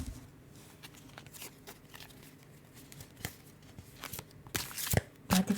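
Tarot cards being shuffled at close range, a run of soft papery riffles and flutters that builds toward louder snaps and slaps near the end, with no talking.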